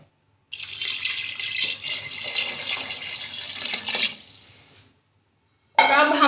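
One litre of water pours into a haleem pot of lentils and shredded chicken, a steady splashing rush for about four seconds that fades out, then a brief silence before a short burst of other sound.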